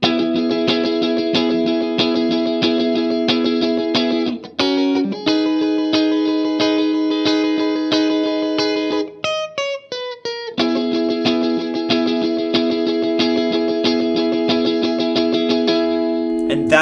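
An electric guitar plays the pre-chorus with steady strummed chords, a brief change near the middle and a descending run before the pattern resumes. It sounds bright, close and unaccompanied, with no voice over it.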